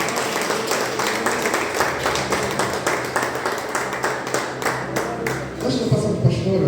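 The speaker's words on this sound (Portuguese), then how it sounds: "Aplauda o Senhor." A church congregation at a Portuguese-language worship service breaks into sustained applause, dense rapid clapping from many hands filling the room, with a voice speaking as the clapping fades near the end.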